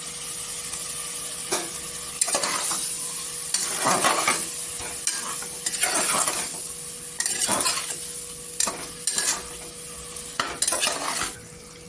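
Cut eggplant pieces tipped into a pan and stirred, giving a steady sizzle with repeated scraping strokes of a utensil against the metal across the whole stretch; no talking.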